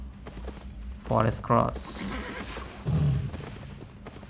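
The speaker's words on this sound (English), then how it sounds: "So let's mount on our horse" A horse in the Albion Online video game neighs twice in quick succession, followed by a brief snort, with someone talking over the sound.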